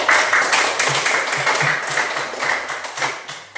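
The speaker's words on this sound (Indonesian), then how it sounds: "Tepuk tangan untuk Ricky." Classroom applause for a student named Ricky, a steady crowd of hands clapping close by for several seconds with no voices over it.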